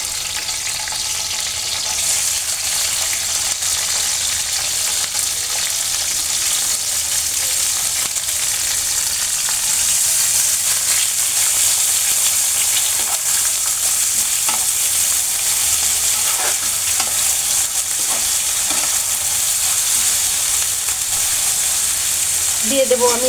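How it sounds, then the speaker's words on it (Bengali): Bay leaves, cinnamon, chopped green chili and onion fry in a hot pan, giving a steady, close, loud sizzle that holds evenly throughout with no voices. "কয়েক টুকরা তেজপাতা দিয়ে দেব, দারুচিনি দিয়ে দেব 2 টুকরা, কাঁচামরিচ কুচি আর পেঁয়াজ দিয়ে দেব।"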